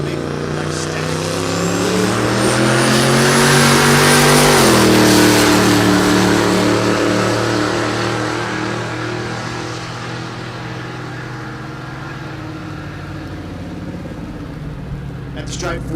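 A Chevrolet Tahoe in the 14.0 drag racing category at Texas Motorplex roars loudly down the strip, its engine climbing in pitch through the gears before fading into the distance, with a voice talking over it.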